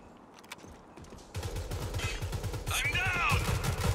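Gunfire in the video game Rogue Company comes as rapid, repeated automatic bursts that build into a dense, loud stream of shots, with game sound effects and some voice chat mixed in.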